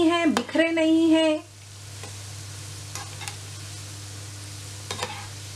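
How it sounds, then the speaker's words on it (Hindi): Chicken balls frying in oil and stirred with a spoon: a low, steady sizzle with a few soft spoon clicks, continuing quietly after a brief spoken phrase at the start. "इन्हें फ्राई करना है गोल्डन कलर आने तक। इस तरह चम्मच चलाते रहें बीच में ताकि चारों बाजू से एक ही कलर हो।"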